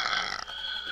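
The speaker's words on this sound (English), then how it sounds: "Did you burp?" A single loud, drawn-out burp lasting about a second, close to the microphone, with a brief dip midway before it carries on, and no speech over it.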